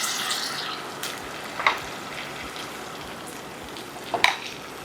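Ground masala stirred and fried in a pan for Mehkar-style bhajyanchi bhaji, a soft continuous sizzle with a couple of sharper scrapes of the spoon against the pan.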